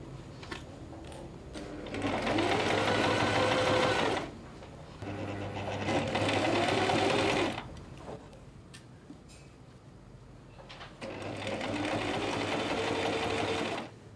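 Sewing machine stitching down pinned fabric for a summer dress, running in three steady bursts of a few seconds each with short quiet pauses between, close and clear.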